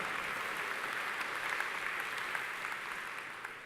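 A conference audience claps steadily, a dense even patter of many hands that tapers slightly toward the end.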